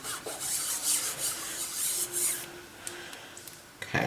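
Gold mica powder rubbed firmly into polymer clay on a glass mug, a steady dry rasping friction in close strokes, fading near the end before a short louder scrape.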